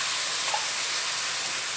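Stir-fry sauce with cornstarch is poured into a hot pan and sizzles with a loud, steady, close hiss for the whole short moment, with no talking.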